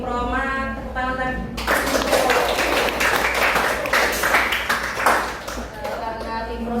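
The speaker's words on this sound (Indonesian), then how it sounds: "Tepuk tangan." Classroom audience applause at a microteaching session breaks out after a spoken voice, a dense steady clapping of many hands that rises, stays loud for several seconds and begins to thin toward the end.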